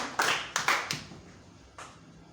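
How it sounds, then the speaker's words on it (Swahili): A church congregation claps hands in a few scattered, separate bursts: several quick claps close together, then a pause and one more lone clap, fairly close and moderately loud. "Tumpigie Bwana wetu makofi."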